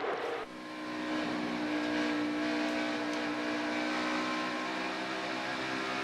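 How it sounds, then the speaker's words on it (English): Kevin Harvick's NASCAR race car at Darlington, its engine holding a loud, steady high-pitched drone as the throttle is worked, dipping briefly near the start and then sustained throughout. "There's Kevin Harvick playing with that throttle."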